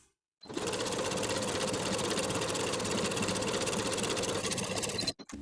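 A sewing machine runs a long straight 5/8 inch seam along the edge of knit fabric for a knit jumpsuit, a fast steady whirring stitch rhythm starting abruptly and stopping after about five seconds.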